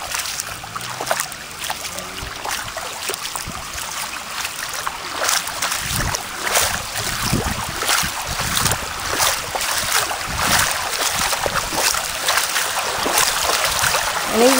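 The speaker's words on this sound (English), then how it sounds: "I've taken my shoes off now and I'm actually walking in the water." Barefoot steps through shallow floodwater from the Murray River at Loxton, South Australia, where the current runs strong, with steady splashing and sloshing of moving water close by over a constant rushing background.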